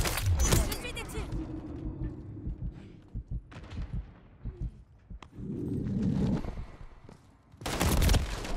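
Bursts of gunfire in Call of Duty: Modern Warfare 3 on the Highrise map during the beta: sharp shots in quick clusters, loud rapid volleys at the start and end, with a voice talking between them.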